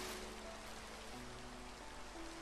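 Steady rain falling in a Minecraft world, a continuous even hiss of drops heard alone at a soft, constant level with a faint low tone running underneath.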